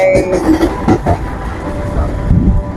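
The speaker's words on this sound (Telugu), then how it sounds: "యాక్చువల్లీ స్లోగా డ్రైవ్ చేస్తారు ఆ ట్రైన్ ఇక్కడ" A train rumbles loudly close by at night near Krishna Canal railway station in Vijayawada, with heavy low rolling noise and a few squeals and clanks as it moves slowly past.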